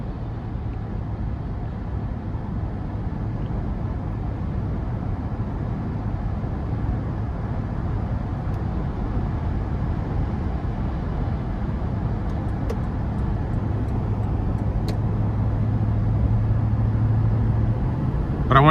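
Steady cabin drone inside a 2017 Toyota Land Cruiser with the 5.7 V8 at highway speed: low engine and road hum with faint wind hiss, fairly quiet and constant, slowly rising a little near the end.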